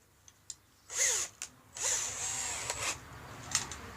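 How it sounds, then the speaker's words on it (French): A power drill drives screws into a wooden batten for a small garden fence: two sustained whirring bursts with short trigger blips and clicks in between, close and clear in a quiet room. "Et par-dessus, on va mettre des vis."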